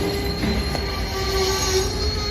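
BNSF Lafayette Branch lumber train rolling past a railroad crossing, steel wheels squealing in a sustained high whine over a low rumble of rail cars, loud and close and continuous for the whole stretch.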